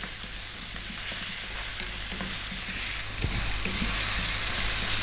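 Vegetables for a vegetable curry sizzle and fry in a hot pan, stirred often. The frying is a steady, close hiss with soft scraping and clattering from the stirring.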